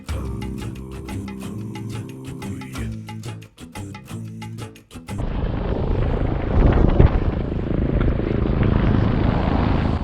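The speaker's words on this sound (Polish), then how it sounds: "Niestety śmigłowiec leci, muszę uciekać." Rapid clicking and tones give way to a loud, deep rumbling drone, like a helicopter passing close overhead.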